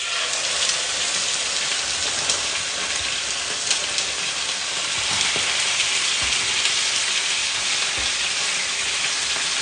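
Beef cheeks searing in hot vegetable oil in a pan give a steady, dense sizzle and crackle with scattered pops throughout, close and fairly loud, with no voices.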